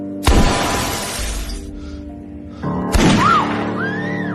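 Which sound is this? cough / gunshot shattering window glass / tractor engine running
gunshot shattering window glass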